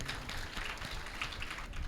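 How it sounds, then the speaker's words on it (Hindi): Audience applause for Ayurveda expert Subhash Goyal at a gathering: a soft, steady wash of clapping from a crowd, fairly faint and continuous with no single claps standing out. "सुभाष गोयल जी के लिए सुंदर तालियां बजाइए"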